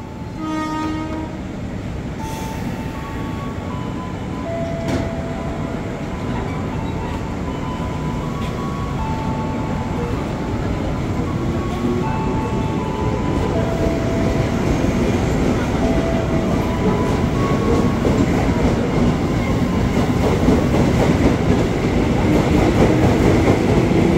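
A KRL commuter train pulls out of Universitas Indonesia station, loud and close, its motor whine and rolling rumble growing steadily while a horn-like tone sounds early on.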